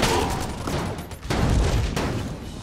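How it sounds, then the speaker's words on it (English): Rapid bursts of gunfire from the video game Enter the Gungeon, a dense stream of shots that dips briefly partway through and then swells back, loud and without talk. "it's shooting bullets"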